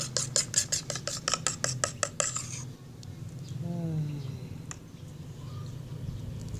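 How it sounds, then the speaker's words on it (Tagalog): A spoon stirs sticky white glue for slime, giving a rapid run of about a dozen scraping clinks against the container, then quieter faint movements with low background hum. "Get our spoon. Let's just mix it."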